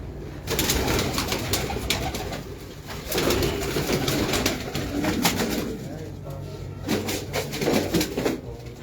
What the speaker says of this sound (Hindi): सलारा टेडी कबूतर, इसका नाम है हीरो